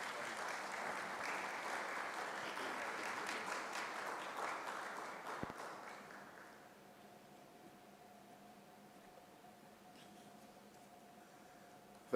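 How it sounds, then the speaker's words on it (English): Audience applause at a sustainability conference welcoming a keynote speaker, a crowd clapping steadily for about six seconds before fading out to a quiet hall with a faint hum. "Please help me welcome Dr. Charles Abani to give us the keynote address with a round of applause."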